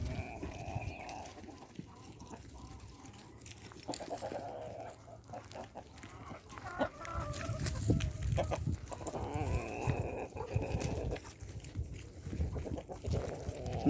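Chickens and young chicks on a farm, with scattered clucks and cheeps near and far over a steady rustling outdoor background of varying loudness.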